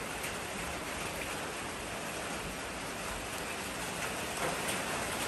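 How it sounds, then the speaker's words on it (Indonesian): Steady rain falling outdoors during a solar spotlight installation, an even, dense hiss of drops on surfaces, moderately loud and unbroken, with no voices. "Alhamdulillah rezeki-rezeki ini hujan"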